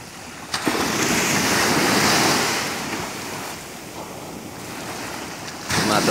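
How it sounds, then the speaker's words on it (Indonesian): Large ocean waves crash and surge at a seaside fishing spot near the power plant in North Jakarta, a loud roaring wash mixed with wind buffeting the microphone, with no speech. "Ini ombaknya luar biasa."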